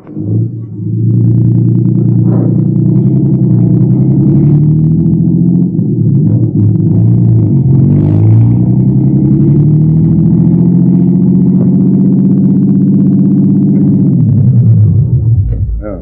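A car engine in an old-time radio police drama runs as a steady, loud low rumble that holds even throughout, swelling slightly near the end before cutting off.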